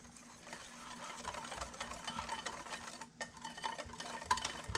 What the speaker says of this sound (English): we're gonna give this a quick little stir.